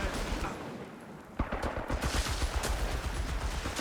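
Sniper rifle fire in the video game Company of Heroes 3 during a 2v2 battle, rapid crackling shots over a dense wash of distant battlefield gunfire, loud and continuous.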